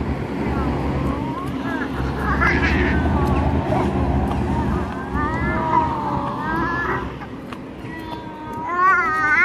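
A kitten mewing in a few high, wavering cries, close by, amid outdoor background noise and a person talking, on the way to school.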